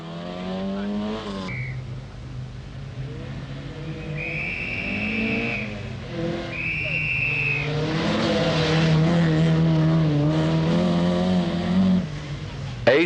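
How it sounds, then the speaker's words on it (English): Vauxhall Opel Group A rally cars racing in the 1985 Cumbria Rally: a loud engine roaring steadily and rising through revs, with tire screeches and a narrator talking over it throughout. "Dominating the Group A category in the Shell Autosport Championship are Vauxhall Opel cars"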